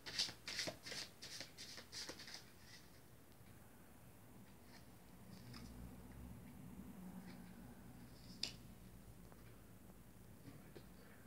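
A deck of tarot cards is shuffled in a quick run of riffling bursts lasting about two seconds, then quiet room noise follows with a few faint taps.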